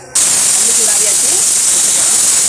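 A steady, loud hiss of steam starts abruptly and continues evenly as puttu steams in a steamer pot on the stove.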